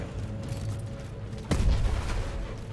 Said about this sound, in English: That was a cannon.